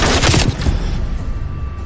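Rapid gunfire bursts from Call of Duty Cold War, loud and dense for the first half second, then trailing off into a noisy rumbling tail with no voices.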